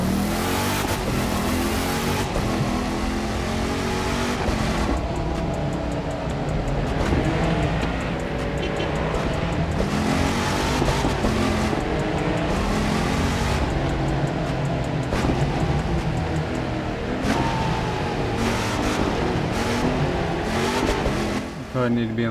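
A Dodge Hellcat street racing in The Crew 2, its engine roaring steadily and climbing through revs and gear shifts for over twenty seconds, loud and continuous with a voice talking over it.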